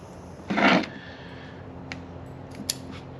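Scissors trimming branches of a portulacaria afra bonsai: one close, crisp snip followed by a couple of faint clicks of the blades, quiet surroundings and no talking.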